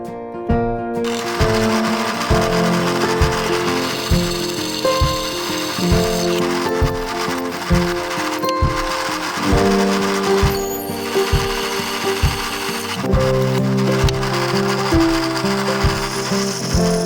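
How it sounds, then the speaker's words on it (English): A drill bores holes through stainless steel for a kukri blade in a workshop. It gives a loud, close, steady mechanical whine with evenly spaced knocking pulses all the way through, and nobody speaks. "drilling stainless steel"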